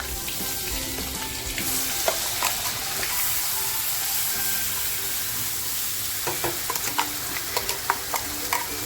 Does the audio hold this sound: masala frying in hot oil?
yes